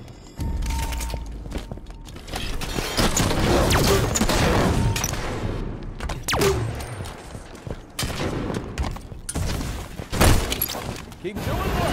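Grenade blasts and plasma caster fire from the Halo 5 video game, a dense, loud barrage of bursts and shots running continuously, with voices talking over the combat.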